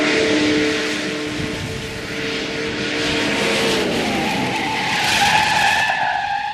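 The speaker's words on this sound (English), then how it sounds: "60 miles an hour is pretty fast in one of these old cars to just be slamming on the brakes" Old muscle car tires skid and squeal under hard braking from 60 mph, a loud sustained screech with shifting pitch lasting several seconds, rising again toward the end, with no talk.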